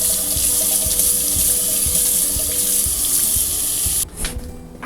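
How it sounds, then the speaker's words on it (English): A kitchen tap runs steadily over a knife being washed in the sink, a close continuous splashing rush that stops abruptly near the end, leaving a few faint drips and clatter. "wash my knife."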